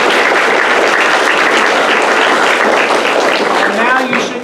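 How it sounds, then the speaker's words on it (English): A debate audience gives the debaters a big round of applause. The clapping is loud, dense and sustained throughout, easing slightly at the very end. "we should give them all another big round of applause"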